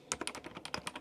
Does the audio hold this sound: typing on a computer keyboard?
yes